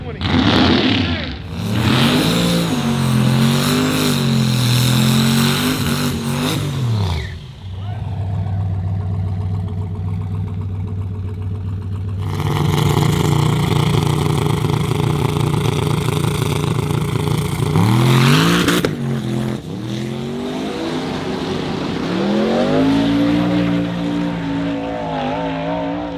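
Racing trucks at a West Coast truck shootout test-and-tune day rev loudly and roar past in several long surging bursts with rising and falling pitch, and someone talks over the engines.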